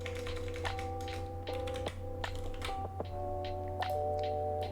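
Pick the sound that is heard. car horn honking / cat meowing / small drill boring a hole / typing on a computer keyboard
typing on a computer keyboard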